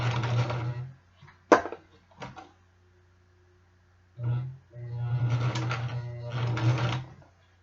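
Sewing machine with a number 20 needle stitching a leather jacket sleeve beside a zipper, running in short whirring bursts separated by pauses and a few clicks and knocks.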